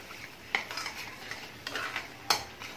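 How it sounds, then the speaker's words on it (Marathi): A spoon stirs and sautés gravy in oil over a low gas flame, giving a few sharp scraping strokes against the pan over a soft, steady sizzle, close up with no voices. "गॅसचा फ्लेम स्लो करूनच परतून घ्यायची आहे ग्रेव्ही"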